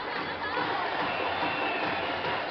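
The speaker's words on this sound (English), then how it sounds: "Now the bench starts to stand and cheer." A basketball team's bench stands and cheers during a women's world championship final, a dense, steady crowd roar of cheering and chatter that fills the arena without a break.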